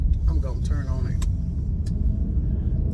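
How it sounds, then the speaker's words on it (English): A car passes on a residential street while a driver talks from inside a vehicle, steady road rumble under the voice throughout. "Thank God that car went on about his business."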